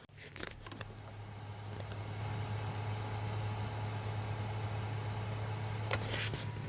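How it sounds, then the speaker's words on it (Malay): A car head unit's cooling fan runs inside a Perodua, a steady low hum with faint airy hiss that holds evenly throughout, with a few soft clicks at the start and near the end. "akan dengar bunyi kipas"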